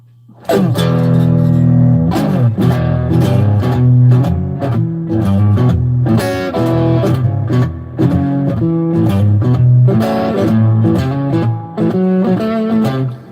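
An electric guitar, a thinline Telecaster-style, plays a run of picked notes and chords, clean and up close with some effect coloring, for more than ten seconds with no talking.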